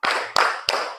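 A classroom group claps in unison during a counted ice-breaker game, three sharp synchronized claps in quick, even succession, close and fairly loud with brief ringing after each.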